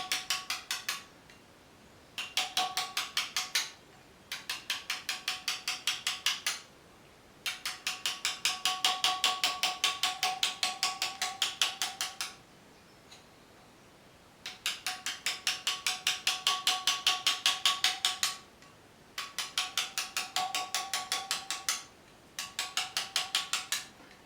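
A steel hammer drives a bullnose chisel into a marble bust to carve lines of hair, giving rapid, even bursts of ringing taps that stop and restart several times with short pauses between. The sound is close and clear, with no talking.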